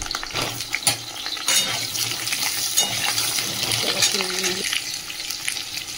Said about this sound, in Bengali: এই যে তেলের মধ্যে আগে আলুটা ভেজে নিই, একটু নুন হলুদ দিয়ে আলুটা ভালো করে ভেজে নেব